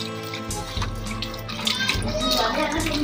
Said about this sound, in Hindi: वाश कर रहे हैं बर्तन को